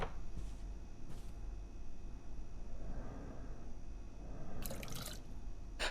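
Water filling a container in the video game Abiotic Factor, a steady running-liquid wash with a few soft drips and brief bright splashy bursts, close and without talk.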